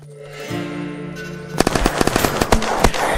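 Rapid gunfire from the video game Unturned: a held tone and hum give way to a dense, loud burst of repeated shots with irregular rhythm lasting over a second, with no talk.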